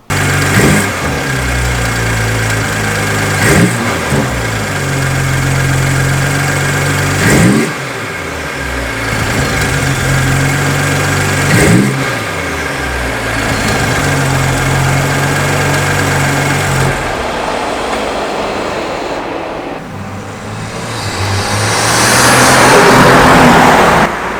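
A BMW X3 M40i SUV engine revs up and settles back several times in a row, deep exhaust rumble swelling and dropping, loud and close, with a rising roar at the end.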